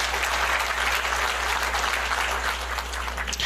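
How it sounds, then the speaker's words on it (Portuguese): An audience at an anniversary and board-installation ceremony applauds steadily, a dense burst of clapping that holds evenly for a few seconds with no voices over it. "Peço uma salva de palmas."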